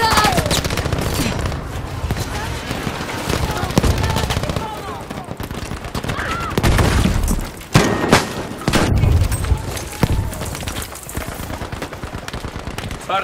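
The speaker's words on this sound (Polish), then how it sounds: "Rzucam granat!" Grenade blast and rapid gunfire in the shooter game Battlefield 5, with repeated loud booms and dense bursts of automatic fire over a chaotic battlefield, a few thuds standing out above steady combat noise.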